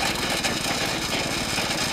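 A homemade cultivator powered by a motorbike engine runs steadily at close range, giving a loud, continuous, throbbing engine drone throughout.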